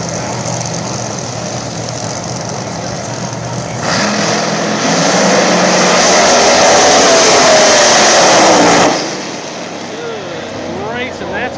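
Pro mod drag race cars roaring down the strip at a PDRA event, a loud engine blast swelling in the middle and then cutting off, heard from the stands with ambient crowd noise around it.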